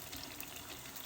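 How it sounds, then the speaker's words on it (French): Tap water runs steadily over mixed diced vegetables being rinsed and drained in a kitchen while preparing Senegalese tchep, a soft continuous hiss and splash heard close and alone. "Je vais égoutter ma macédoine avec de l'eau, je la lave."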